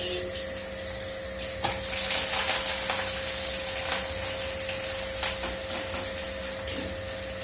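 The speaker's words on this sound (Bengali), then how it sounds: "এই যে গোটা মসুর, পেঁয়াজ ভেজে নেবো" Onions frying in a pan for a whole lentil (masoor) dish, a steady close sizzle with spitting crackles over a constant hum, uneven pops rising and falling throughout.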